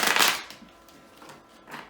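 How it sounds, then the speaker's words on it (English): A deck of playing cards shuffled in a quick riffle, a bright papery burst at the start followed by softer flicks and a second short riffle near the end, close and with no talk. "Let me get the clarifying deck shuffled."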